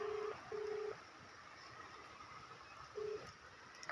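Telephone keypad tones on a mobile phone being dialed at a potato farm: three short, steady beeps, two close together and then one after a pause, over a faint hiss.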